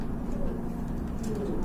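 A pair of Jharna Satin pigeons coo in a low, continuous murmur close by, with faint chirps above and a voice talking over them.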